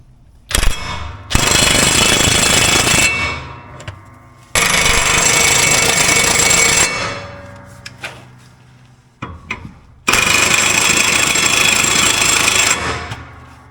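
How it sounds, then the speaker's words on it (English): An impact gun tightens the bolts on lawn mower blades in three loud, sustained rattling bursts of a few seconds each. Short clanks and quieter pauses separate the bursts, and no one speaks. "I won't allow the gun to over or under torque the bolt."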